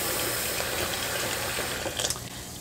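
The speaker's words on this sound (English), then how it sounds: "I'm not going to fill the sink completely up to the top, but I am going to let it get about halfway full" Tap water runs into a kitchen sink, a steady close splashing rush that fills the short stretch, briefly turbulent near the end.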